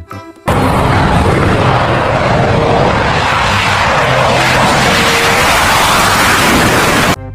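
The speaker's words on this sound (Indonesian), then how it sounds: "Wow, di sini ada pesawat jet tempur." A toy fighter jet plays its sound effect: a loud, continuous electronic jet roar with boom-like rumbles that begins abruptly and holds steady for several seconds before cutting off, with no talking.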